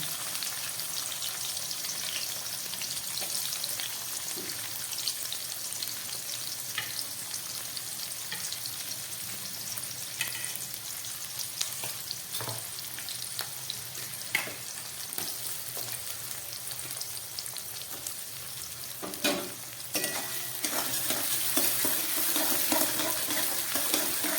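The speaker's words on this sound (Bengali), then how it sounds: "এই তেলের মধ্যে আমি পেঁয়াজটা দিয়ে দিলাম।" Sliced onion frying in hot oil in a home kitchen, a steady close crackling sizzle that holds for the whole stretch, with occasional clinks and stirring sounds and a brief splash of tap water.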